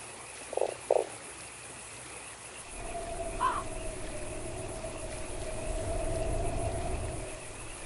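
A frog croaks in the horror video game Fran Bow: two short, close croaks, then a third a little later, over a quiet ambient bed that swells into a low, steady game drone.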